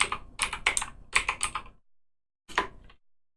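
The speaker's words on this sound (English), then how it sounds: "let's type survey." Quick bursts of clicking keystrokes on a computer keyboard, two runs of rapid taps, a short pause, then one final brief burst, close and crisp.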